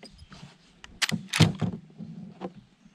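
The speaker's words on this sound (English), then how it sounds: "you twist it until your laser comes on, and then you will open your chamber" A rifle chamber being opened to insert a laser bore sighter: a few quick metallic clicks and a sliding thunk of the action, close and fairly quiet, with no talk.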